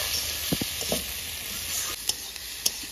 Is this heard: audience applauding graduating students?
no